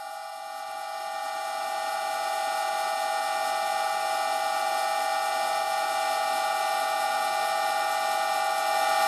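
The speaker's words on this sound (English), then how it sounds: "So I've been running at 600 RPM for 5-6 minutes now." An old Karger lathe runs at 600 RPM, giving a steady, even whine with a strong sustained tone that stays constant and alone, slightly swelling in the first seconds.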